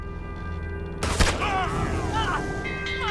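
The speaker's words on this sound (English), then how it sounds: "They're shooting at us!" Gunfire in the Red Dead Redemption 2 video game: a sudden loud burst of several close, sharp shots over a steady low background rumble, followed by fainter voice-like calls.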